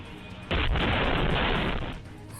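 A sudden loud blast erupts after a brief quiet moment, followed by a sustained, roaring rumble that slowly fades.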